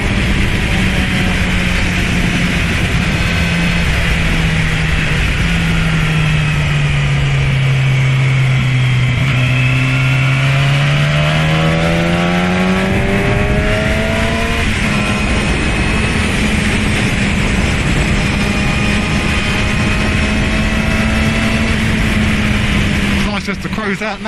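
A 600cc motorcycle engine droning while riding on an evening cruise, loud and continuous with a steady hum that dips and rises in pitch as the revs change, mixed with heavy wind rush.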